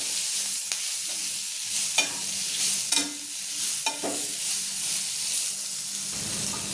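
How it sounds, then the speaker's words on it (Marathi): Sesame seeds roasting in a dry pan, with a steady hiss and scattered light crackles and pops as they are stirred. "छान बघा आपले तीळ उडायला लागले, मस्त झाले लाल।"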